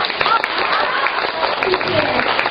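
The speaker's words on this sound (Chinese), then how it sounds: "我们就报以我们热烈的喝彩和掌声吧" An audience at a Shanghai Yue opera event breaks into loud, sustained applause with cheering mixed in, a dense, steady wash of clapping close at hand, with voices faintly underneath.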